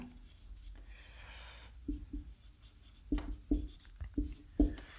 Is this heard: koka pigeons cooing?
no